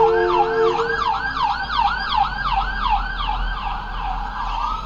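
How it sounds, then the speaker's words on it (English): A wailing emergency siren rises and falls in steady repeated sweeps, loud and close, over a low rumble of traffic. "I hear the sirens coming."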